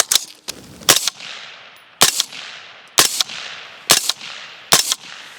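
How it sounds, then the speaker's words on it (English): Five suppressed gunshots from a CS5 rifle crack out one at a time, each a sharp, loud report followed by a short decaying echo, spaced roughly a second apart outdoors. "5 shots out of the CS5"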